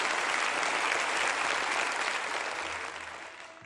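Audience at a mentalist stage show breaking into loud, dense applause for a volunteer, a continuous roar of clapping that gradually tapers off in the last second.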